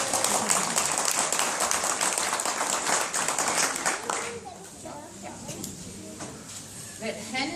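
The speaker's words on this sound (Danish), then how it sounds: "Skal vi lige klappe det danske?" Audience applause at a welcome speech, a dense wash of many hands clapping for several seconds then thinning out, with voices talking over and after it.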